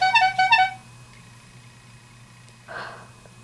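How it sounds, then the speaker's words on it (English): A quick pair of bright, honking phone notification tones plays twice up front, then fades into quiet room noise with a faint breathy sound later. "my phone just honked at me"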